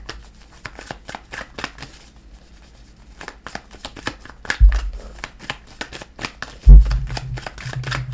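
A deck of tarot-style cards being shuffled by hand close up, rapid riffling flutters in bursts with a couple of soft thumps as cards flip out onto the table.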